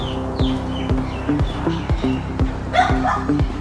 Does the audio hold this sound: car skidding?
no